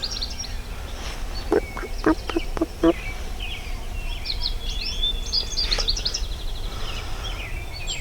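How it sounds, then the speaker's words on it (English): Wild turkey hens call from a distance in Ohio during turkey season, a short run of clucks and yelps followed by scattered chirps over faint outdoor background noise. "There's a huge flock of hens behind me across the road"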